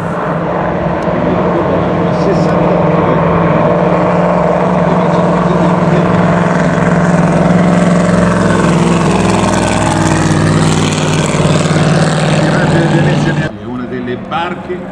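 A classic racing motorboat's engine drones at idle throughout, loud and continuous, with people talking over it; it cuts off abruptly near the end.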